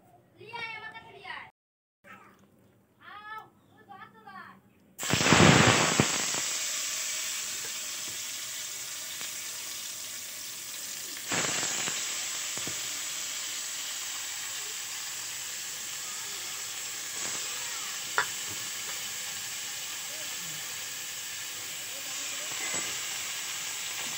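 Sliced potatoes hit hot oil in a pan with a sudden loud sizzle that settles into a steady, close frying hiss, preceded by someone speaking briefly.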